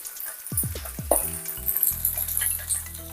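Chicken pieces frying in a pan with turmeric added, a steady close sizzle with a few clinks of a utensil stirring against the pan near the start.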